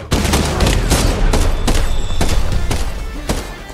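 Rapid, dense gunfire fills a combat scene from the 2023 action film John Wick 4, with loud overlapping shots and thuds in quick bursts.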